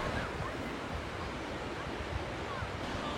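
Steady roar of ocean surf breaking on a large beach below cliffs near Taghazout, Morocco, continuous and fairly loud, with some wind rushing over the microphone.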